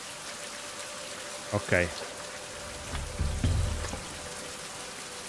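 Rain falling in the video game Fountain of Youth, a soft, steady patter at low level, with a brief spoken word and a few louder splashy bursts over it.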